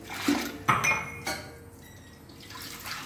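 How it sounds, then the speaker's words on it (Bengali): Tea dishes are washed at night, a few clattering clinks of cups and utensils against each other with running water splashes between them, close and brief. "সকালবেলা উঠে চায়ের বাসন ধুতে একদম ইচ্ছে করে না, তার জন্য রাত্রি এটা ধুয়ে রেখে দিই।"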